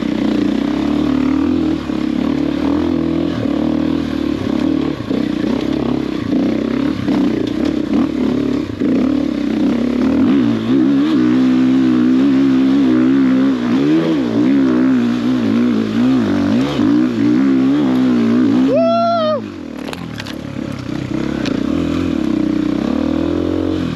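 A 500cc enduro motorbike rides off-road with its engine droning loud and close throughout, the pitch rising and falling as the throttle is worked through gears, with a sharp rev surge and brief drop near the end.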